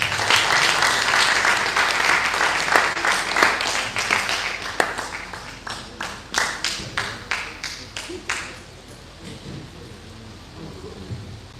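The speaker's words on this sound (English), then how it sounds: "Shall we give him a better round of applause?" Workshop audience in a university hall giving a round of applause, dense clapping at first that thins into scattered individual claps and then dies away, with some murmuring voices underneath.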